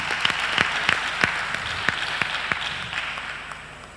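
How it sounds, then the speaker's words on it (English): A debate conference audience gives a team a round of applause, dense clapping with sharp individual claps standing out, fading gradually toward the end. "Please, a round of applause for the team."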